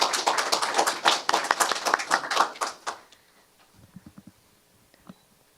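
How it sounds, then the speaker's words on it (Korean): Audience applause at a science and technology policy forum, a burst of clapping for about three seconds that stops abruptly, followed by faint scattered taps and shuffling. "큰 박수 부탁드리겠습니다."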